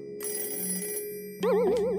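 In a video game, a telephone rings with a warbling electronic trill, first a half-second ring, then a louder, wavering ring that starts again and continues, over a steady low musical hum.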